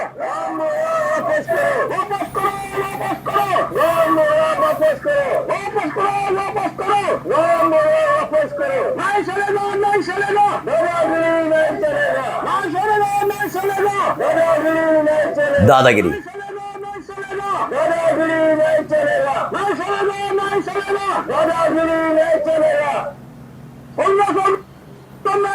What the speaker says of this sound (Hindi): सुनते जाइए, बेतहाशा भीड़ उतरी है।